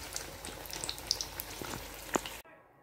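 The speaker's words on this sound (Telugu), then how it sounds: "ఎర్రగా వేగాలండి, వేగితేనే బాగుంటుంది." Chilli bajji, green chillies in batter, fry in hot oil with a soft, steady sizzle and scattered crackling pops, close and fairly quiet, cutting off abruptly near the end.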